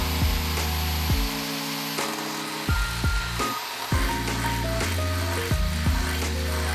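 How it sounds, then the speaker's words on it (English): A power drill whines in repeated bursts while drilling holes on a Harley-Davidson Sportster build, its pitch rising as it spins up and dropping under load, with short pauses between each run. "Time to drill some holes."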